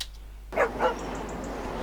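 A dog gives two quick barks close by after a moment of quiet, followed by a faint high tone and low room hiss.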